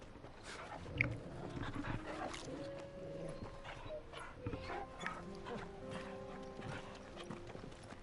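A dog barks in the video game Final Fantasy XVI, mixed with horse hooves clip-clopping, mechanical game ambience and in-game voices talking throughout.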